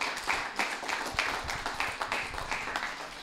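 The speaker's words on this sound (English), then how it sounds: "Let's give Great Scott a big round of applause." A small group applauds for a robotics team, scattered hand claps in loose bursts with a light room ambience, moderately quiet and without voices.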